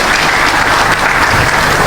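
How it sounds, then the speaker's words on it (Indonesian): A government audience in West Java breaks into dense, continuous applause at a regional secretary's speech, loud and steady throughout with no voices over it. "Tepuk tangan Bapak Ibu."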